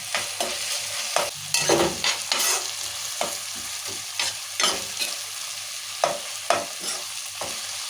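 Spices with ginger-garlic and turmeric crackle in hot tempering oil while a spoon stirs repeatedly, making a steady sizzle broken by regular scraping strokes, close and clear with no voices.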